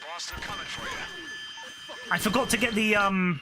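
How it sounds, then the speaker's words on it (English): An alarm goes off during a heist in the GTA V Online video game, with ringing bell-like tones that grow louder toward the end, under game character speech and shouting. "That's the alarm"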